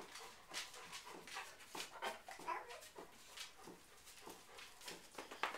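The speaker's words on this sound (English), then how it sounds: "Another doggy!" A dog pants and whimpers softly at close range, with quick breathy huffs repeating in an uneven rhythm.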